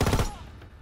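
Itra Burst rifle firing in Call of Duty WW2, a short loud burst of gunfire that quickly fades into a lingering tail.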